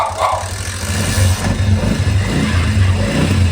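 A repaired motorbike engine running after a start, close and loud, with a steady low throbbing idle broken by a few short revs, and no talking.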